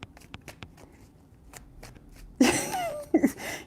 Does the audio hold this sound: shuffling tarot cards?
yes